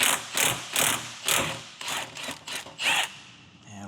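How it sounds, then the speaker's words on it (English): A ratchet wrench loosening the timing belt tensioner bolt on a Mitsubishi Eclipse GSX, about eight quick close clicking bursts in an uneven rhythm, fading to quiet at the end, with no talking. "Now we have a 14 mil for the timing belt tensioner. And we'll give that a few turns, loosen it up."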